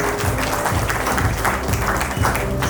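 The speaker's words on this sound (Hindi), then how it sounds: "कृपया तालियों से इनका प्रोत्साहन करते रहें।" Audience applause at the 2025 MAGIS award ceremony at St. Xavier's College, Ranchi: sustained, even clapping from a large crowd filling the space.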